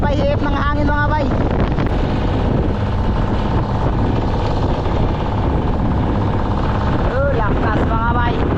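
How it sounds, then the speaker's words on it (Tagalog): Strong wind blows hard across a boat at sea, a loud constant roaring rush mixed with microphone buffeting. A voice speaks briefly near the start and again near the end. "Naririnig yung mga bay, hihip ng hangin mga bay."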